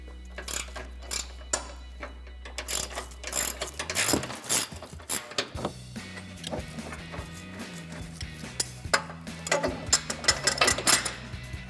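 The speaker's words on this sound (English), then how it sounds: "you're gonna take an 18mm wrench and a 21mm wrench, and we're gonna remove this bolt on the upper control arm" Wrenches turning an upper control arm bolt on a Ford F-150 front suspension: repeated metallic ratcheting clicks and clanks in uneven bursts close by, over a low background hum.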